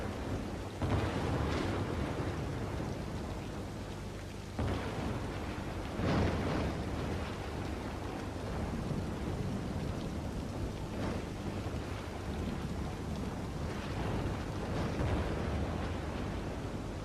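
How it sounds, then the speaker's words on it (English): A thunderstorm in the city-building game Cities: Skylines, with continuous heavy rain and rolling rumbles of thunder that swell several times over a steady, loud wash. "A thunderstorm is battering the city."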